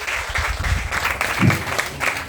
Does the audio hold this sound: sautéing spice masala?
no